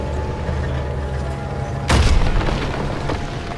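Tank cannon fire in the World War II shooter Call of Duty WWII: a single loud, heavy boom with a sharp blast that rolls into a rumbling decay over a constant low battle drone.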